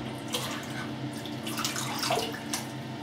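Water trickles and splashes faintly into a hole in the middle of a shaving brush, a soft, close running-tap sound with small bubbly spurts and no talk.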